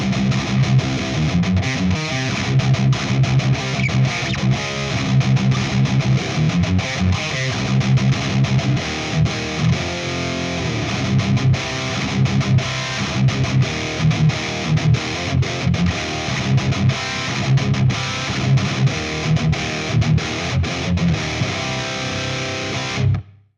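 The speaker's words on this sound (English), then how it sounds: "I'm not a huge fan of that high gain distortion sound" Heavily distorted high-gain electric guitar through a Valeton GP-5 preset modeled on an Engl amp, playing continuous riffs with a harsh, raspy top end, loud and steady for about twenty-three seconds before stopping abruptly.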